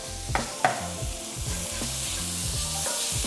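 Onions and bell peppers sizzle in garlic-infused olive oil in a pan, a steady close crackling hiss with a few sharp utensil clinks and stirring scrapes early on.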